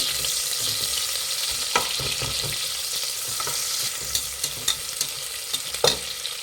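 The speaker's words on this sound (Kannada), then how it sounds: "ಈರುಳ್ಳಿ ಫ್ರೈ ಮಾಡಿ ಎಣ್ಣೆ ಚೆನ್ನಾಗಿ ಫ್ರೈ ಮಾಡಬೇಕು" Sliced onions frying in hot oil inside a cooker, a steady broadband sizzle with scattered clicks and light scraping knocks toward the end, close and alone.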